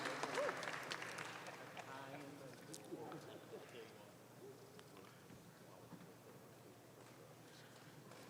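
Audience at a Kentucky State Fair youth dairy cattle show clapping for reserve champion cows, a burst of applause that tapers off under an announcer's amplified voice and arena noise.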